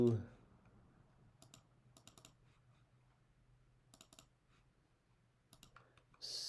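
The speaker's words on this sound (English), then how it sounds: "I'm just clicking here on the bar, double clicking the paint bucket to get my colors out here." Mouse clicks while working in Photoshop, several sharp single and double clicks in small clusters, close and quiet over a low steady hum.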